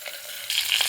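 Stuffed green chillies frying in an iron pan give a soft, close sizzle that grows slightly louder halfway through this short moment.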